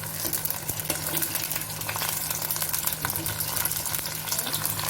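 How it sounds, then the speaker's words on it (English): Apples fry in hot oil in a pan for a Kashmiri apple and brinjal curry, a dense, close, continuous sizzle with faint crackles and light stirring throughout, no voices. "So there go in the apples. And we'll just let it to fry for 2 or 3 minutes."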